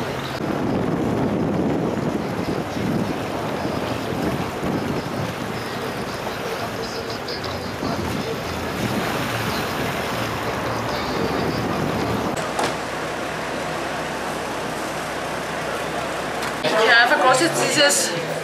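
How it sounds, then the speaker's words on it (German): Boat engine and wind noise in the harbour of Grand Cayman in the Caribbean, a steady loud rumble with gusts buffeting the microphone and water sloshing throughout. "Im Hafen von Grand Cayman."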